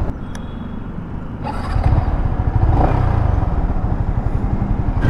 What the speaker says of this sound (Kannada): ನೋಡಿದ್ರಲ್ಲ ಯಾವ ಥರ ಒಂದು ಇಂಜಿನ್ ಸೌಂಡ್ ಬರುತ್ತೆ ಅಂತ